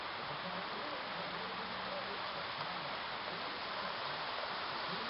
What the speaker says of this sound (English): Yep, it's raining.